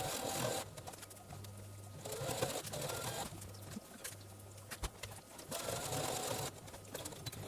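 Domestic sewing machine stitching fabric for a cloth coaster, running in steady whirring bursts that briefly pause and restart, moderately quiet, with a faint bird cooing in the background.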